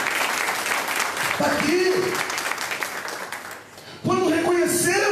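A church congregation applauding during a Sunday worship service, a dense wash of clapping under a preacher's voice, briefly dipping before swelling again as he keeps speaking.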